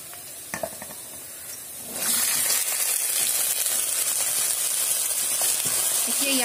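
Colocasia stems tipped into a pan of frying onions and cumin, with a loud sizzle that surges at about two seconds and then holds steady as a continuous crackling hiss. A few faint clinks come just before it.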